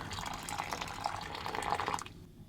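Boiling water poured into an apple cinnamon cereal meal pouch from an emergency kit during a winter storm, a steady close liquid gush lasting about two seconds before stopping.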